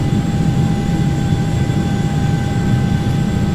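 Twin jet engines of a Hawker 850XP business jet in a flight simulator on approach, a loud steady roar with a deep low rumble and thin whining tones, continuous and unchanging throughout with no talk.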